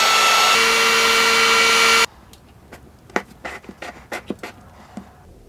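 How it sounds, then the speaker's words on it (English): A heat gun blows steadily and loudly while softening PVC pipe for a bowling ball launcher build, then cuts off abruptly, leaving quieter handling clicks and knocks. "So I'm gonna heat these up, and then I'm gonna push these in, because PVC becomes very flexible once it's hot."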